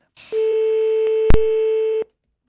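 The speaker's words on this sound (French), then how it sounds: "Ça sonne chez elle." A French telephone rings out on a call, one steady electronic ring tone lasting under two seconds with a short click partway through, clear and close.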